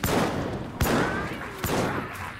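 A gunner firing in the Warhammer: End Times - Vermintide video game, giving three loud, sharp shots spaced under a second apart over a dense, continuous battle din.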